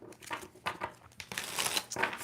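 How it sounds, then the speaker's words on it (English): A new tarot deck being shuffled on a table gives crisp papery riffles and crinkling flutters in several quick, close bursts, fairly quiet and with no voice over them. "I love the way a new deck sounds when I'm shuffling it before it gets all worn out."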